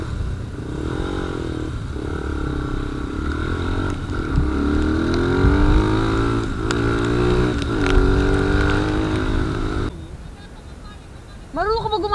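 A motorcycle rides along a mountain trail, its engine droning loud and close with shifting revs and rattles over rough ground, then dropping off before revving up again; people talk briefly.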